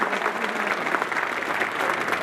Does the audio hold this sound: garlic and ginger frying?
no